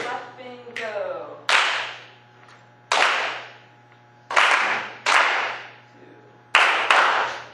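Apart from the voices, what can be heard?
string class clapping a counted rhythm together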